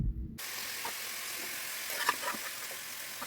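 Goat head meat frying in a pan for sambar, giving a steady, fairly faint sizzle with occasional small crackles and stirring sounds throughout.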